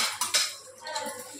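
Freshly washed metal dishes and utensils clink and clatter together at home, a few sharp, close metallic knocks in quick succession with no talking.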